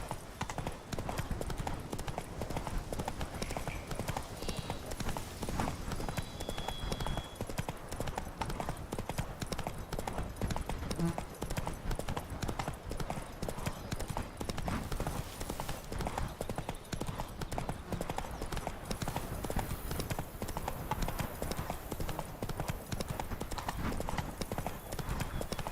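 Roach, Geralt's horse in The Witcher 3, trots with steady rhythmic hoof clip-clops throughout, close and continuous, with faint game ambience and a brief whinny.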